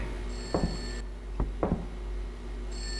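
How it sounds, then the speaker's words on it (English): A phone in the horror video game Hanako in the Abandoned School gives two short bursts of thin electronic ringing, one near the start and one at the end, with a few dull knocks between them over a low background hum. "I'm so tired of this phone ringing."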